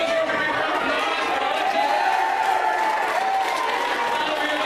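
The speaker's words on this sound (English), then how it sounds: "Everybody give us a great round of applause" Middle school audience at a hypnosis show applauds and cheers, a steady roar of clapping mixed with crowd chatter held at constant loudness throughout.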